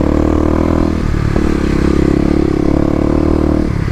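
A Kawasaki KLX250 dirt bike with extra torque drones steadily on a rocky off-road OHV trail, engine loud and constant with rattling clatter from the terrain.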